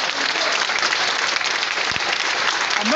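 A loud crowd applauds at a gathering in Port-Gentil, Gabon, with heavy sustained clapping that stays dense and near for the full stretch.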